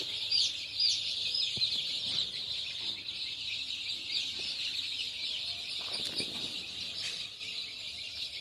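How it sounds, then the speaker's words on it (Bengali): Chickens at a poultry farm with young week-old chicks, a steady chorus of high chirping and clucking filling the shed, continuous and moderately loud with no talk. "মুরগি বাচ্চা দেখো"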